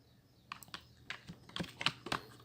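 Close keyboard typing on a computer while entering text into an HTML document, a quick run of separate key clicks in uneven bursts over a quiet background, with no talk.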